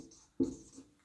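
Handwriting during a class 10 maths lesson: a faint, close scratch of writing, with one brief stroke that starts sharply and fades within about a second, with no voices.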